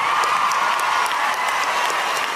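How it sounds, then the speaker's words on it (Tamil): An audience at a film audio launch event gives a standing ovation for director Mari Selvaraj, a steady, loud wash of dense clapping with faint cheering mixed in, sustained throughout. "எல்லாரும் ஸ்டாண்டிங் ஓவேஷன் அவனுக்கு கொடுக்கணும்னு ஆசைப்படுறேன்."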